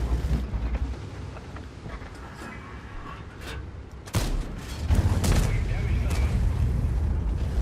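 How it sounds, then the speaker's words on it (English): High-explosive shells fired by a tank in World of Tanks, with sharp cannon blasts and rumbling explosions that jump louder partway through, under faint background voices. "Oh, shooting high explosives as well?"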